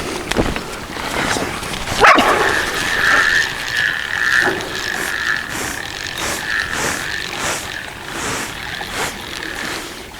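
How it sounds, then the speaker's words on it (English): A dog barks beside a fishing spot while a fish is hooked, with a sharp bark near the start and further barks and yips following at irregular intervals amid outdoor noise. "Well, you heard Monty the dog bark"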